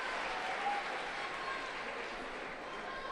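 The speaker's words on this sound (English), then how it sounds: "what a cheer she's got from the Croatian crowd" A Croatian crowd at a judo Grand Prix in Zagreb cheers and applauds a bronze medal winner, a dense, steady roar of clapping and shouting that fills the arena without a break.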